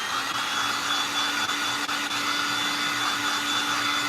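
A hair dryer blows steadily on a painted craft cross, a constant close whirring hiss with a faint high whine, uninterrupted and without speech.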